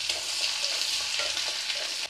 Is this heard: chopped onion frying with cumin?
yes